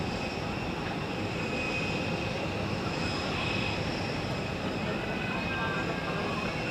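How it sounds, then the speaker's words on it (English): A heavy airliner departing Zurich Airport, a steady broadband engine roar with a high whine, loud and constant throughout with no talk. "that was already quite a nice beginning here with some heavy airplane departures"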